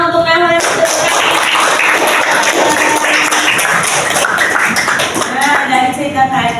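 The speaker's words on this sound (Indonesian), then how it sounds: "terima kasih tepuk tangan untuk Rahul yang sudah bergabung" Classroom applause at an elementary school literacy session, sustained scattered clapping from children with voices chattering over it.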